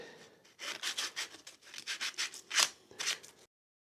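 Quick back-and-forth rasping strokes of hand sanding on the wood of a guitar build, a dozen or so in an uneven rhythm, close and fairly soft, then silence.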